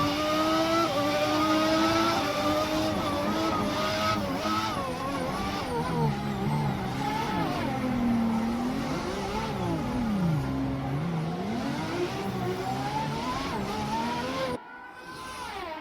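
Several race cars in a Formula racing video game scream past with rising and falling engine pitch and shifting gears, loud and continuous for the whole stretch before a brief drop near the end.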